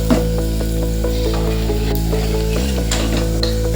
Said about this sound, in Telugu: తాలింపులోనే ఇంగ వేసుకుంటాము.